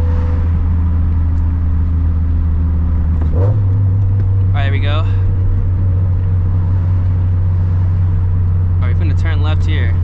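Inside a turbocharged Scion FR-S fitted with an ACT clutch and a lightweight flywheel, a steady engine drone hums along the road. Its pitch shifts with a gear change partway through, and brief voice-like sounds come up over the engine.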